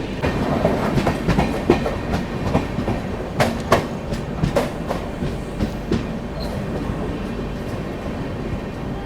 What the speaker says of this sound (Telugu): మన బండి ఇప్పుడే ఇలా ఒంగోలు అరైవ్ అవుతుంటే